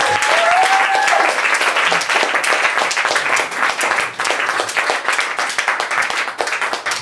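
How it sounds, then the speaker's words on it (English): Sustained audience applause for a departed performer at a live show, dense steady clapping from a sizeable crowd, loud and continuous throughout with no talking over it. "let's give him a little applause one more time"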